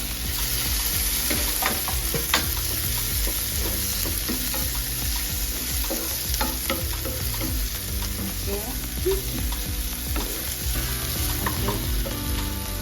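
Turmeric and fenugreek powders fry in a pan as the base of a canned tuna masala, a dense continuous sizzle heard close with soft scrapes of stirring throughout.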